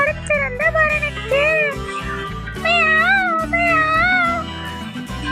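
A cat meows repeatedly in a Tamil children's nursery rhyme about a cat that went to town. The drawn-out, rising and falling meows sit over a loud, bouncy musical backing.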